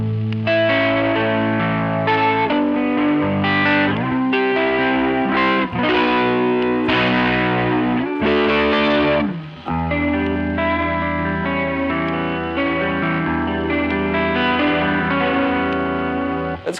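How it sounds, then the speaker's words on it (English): An electric guitar plays chords and melodic lines through a Source Audio Artifakt Lo-Fi Elements pedal, the phaser-like modulation making the tone swirl and phase with a lo-fi, slightly distorted character and vinyl-style hiss. "The modulation's almost like a phaser sort of thing happening."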